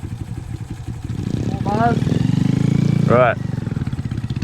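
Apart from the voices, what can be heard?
motorcycle riding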